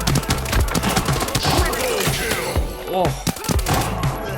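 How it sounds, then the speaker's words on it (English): Rapid bursts of automatic gunfire and scattered single shots ring out in the shooter video game Arena Breakout around a farm and barn, loud and irregular, with a brief spoken exclamation. "With countless gunshots around, I proceeded with great caution."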